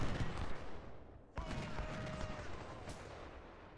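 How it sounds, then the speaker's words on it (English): Artillery fire in the Civil War game Ultimate General: Civil War, with booming cannon blasts and rumbling battle noise, including one sharp report near the middle, heard fairly faintly over a continuous din. "enemy artillery is inflicting on us heavy casualties"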